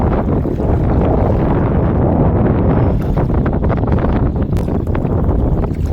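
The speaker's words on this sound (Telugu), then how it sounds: "ఫుల్ గాలి ఉంది." Strong wind buffets the microphone outdoors while fishing, a loud, continuous roar with gusty rumbling bursts, no voices audible.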